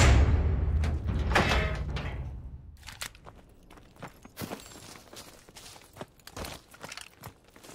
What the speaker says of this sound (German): Öffnen Sie die Tür.